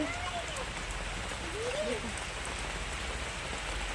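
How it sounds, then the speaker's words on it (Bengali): Steady patter of rain falling on surfaces, fairly close, with water running over the road and a couple of brief faint voice-like calls rising over it. "বাইরে বৃষ্টি হইতেছে"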